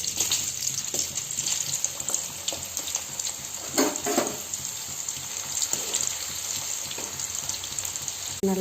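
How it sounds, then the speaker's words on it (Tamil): Carrot slices fry in hot oil for chips, a continuous fine bubbling sizzle, close but soft, with a few louder crackles midway and no talking. "இப்போ இதை எண்ணெயில் போட்டு பொரிச்சு எடுத்துடலாம்"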